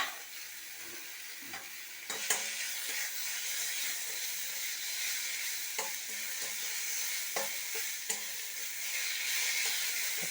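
Watermelon rind frying in a pan, a steady hissing sizzle with periodic scrapes and clicks of stirring, heard alone and fairly close.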